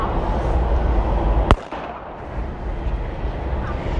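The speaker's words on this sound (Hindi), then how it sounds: "वो कौन है बम फोड़े जा रहा है यहाँ पे" A Diwali firecracker goes off as a single sharp, loud bang partway through, over a steady outdoor background hum that carries on after it.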